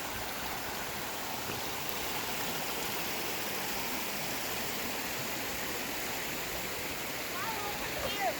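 Waterfall at McGalliard Falls Park spilling over rocks, a steady broadband rush of falling water that stays even and continuous throughout, close and moderately loud, with no voices over it.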